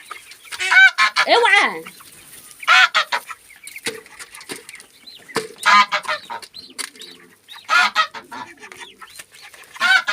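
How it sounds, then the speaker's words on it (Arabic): Village chickens cluck and squawk close by in short, repeated bursts with gaps between them, and someone speaks briefly among them. "دي كده الفراخ ديت ان شاء الله هتبقى يا جماعه لرمضان اهي"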